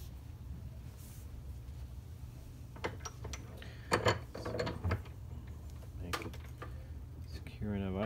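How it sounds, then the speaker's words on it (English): A hose end for AN fittings is clamped into a bench vise, giving faint mechanical clicks and a couple of sharper ratcheting knocks over a steady low workshop hum. "put the end into our vise clamp"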